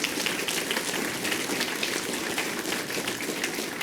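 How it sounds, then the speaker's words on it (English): Faint, steady applause from an audience at a school district board of directors meeting, a continuous wash of clapping heard from a distance with no speech over it. "So round of applause for the high school for hosting this year."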